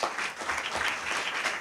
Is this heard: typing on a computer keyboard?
no